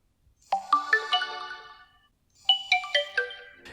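A Redmi K20 Pro's pop-up selfie camera plays a short, bright chiming melody as it rises, followed by a second matching jingle, each a quick run of ringing tones in a quiet room.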